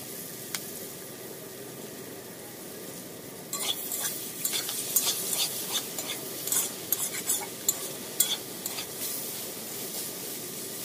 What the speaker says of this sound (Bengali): আমি দুটোকে একসাথে মিশিয়ে ভাজতে পারছি